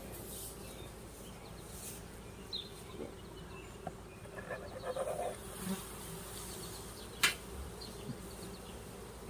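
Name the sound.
swarm of honey bees buzzing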